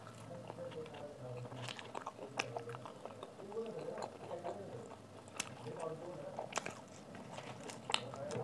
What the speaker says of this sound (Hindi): सेकंड बाइट आप सबके लिए, लेट्स एंजॉय